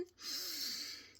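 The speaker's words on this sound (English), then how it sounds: "Breathe in," A single deep, long breath drawn in through the nose, airy and close, rising quickly and holding steady for about a second with no talking.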